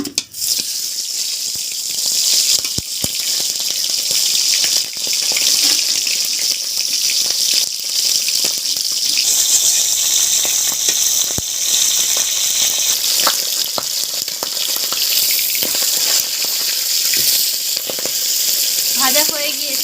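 A large catla fish head frying in a small amount of hot oil in a wok, heard as a continuous close hiss with scattered pops and spits, its texture shifting slightly partway through.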